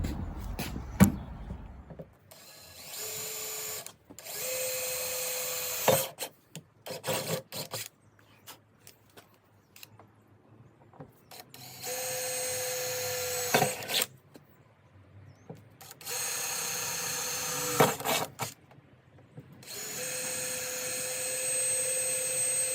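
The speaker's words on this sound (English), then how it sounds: "ready for drilling" A power drill bores holes in the metal body of a Land Rover Discovery 2 for a raised air intake, loud grinding bursts of a few seconds each separated by quiet pauses.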